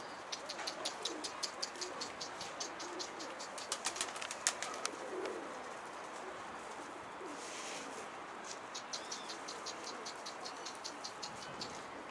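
Pigeons or doves coo repeatedly outdoors, steady rhythmic calls at moderate distance over a constant background hiss, with some faint insect-like buzzing.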